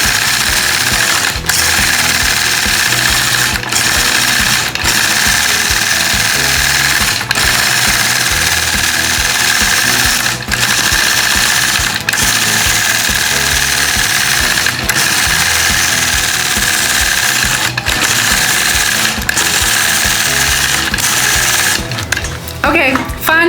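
A sewing machine quilts a bump-back feather design using Sway rulers, a loud, steady, fast mechanical whir with faint rhythmic ticks running continuously and a short clatter near the end.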